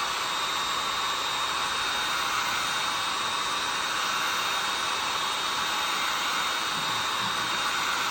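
Heat gun blowing hot air while X-Flock is applied to a fishing rod, a continuous loud even roar of airflow throughout with no pauses.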